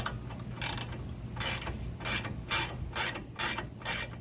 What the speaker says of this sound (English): If you have one of these that has a ratchet on there,